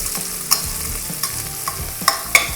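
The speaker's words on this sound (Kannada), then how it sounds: "ಈರುಳ್ಳಿ ಚೆನ್ನಾಗಿ ಫ್ರೈ ಆಗಲಿ" Onions fry in a pan for matar pulao, a soft continuous sizzle broken by a few sharp scraping clicks of a spatula stirring, close and with no voices.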